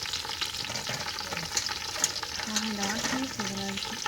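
Coriander and mint leaves sauté in a pan for biryani, giving a steady, moderate sizzle with stirring scrapes and a faint tonal hum underneath, no talk over it.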